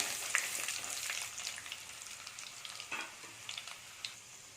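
Chana dal and dried red chillies frying in hot oil for beetroot poriyal, a soft continuous sizzle with light crackles and occasional stirring scrapes, close and fairly quiet, with no talking.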